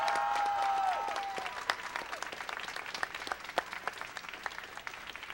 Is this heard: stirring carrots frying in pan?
no